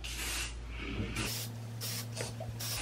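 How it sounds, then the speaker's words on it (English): Heat styling spray mists onto hair in a few short, close hissing bursts, soft and breathy, with no talk. "spray with my Perfect Hair Care heat styling spray"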